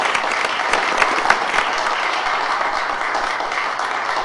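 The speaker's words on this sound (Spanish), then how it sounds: "los voy a despedir con un aplauso que nos vamos a dar todos por ustedes" A crowd in Bayamo, Cuba gives loud, sustained applause to Little League baseball champions, a dense and continuous roar of clapping close by, holding steady throughout with a couple of sharper individual claps poking through.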